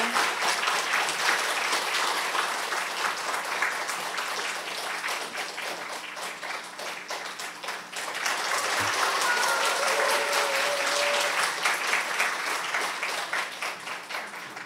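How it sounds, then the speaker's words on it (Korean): Audience applause as a speaker is welcomed onto a stage at an investment talk, a long, dense clapping from a seated crowd that dips slightly midway then surges again and stays steady, with a faint tone or voice briefly beneath. "큰 박수로 환영해 주시기 바랍니다."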